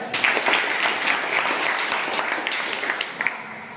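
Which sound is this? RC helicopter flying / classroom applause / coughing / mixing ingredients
classroom applause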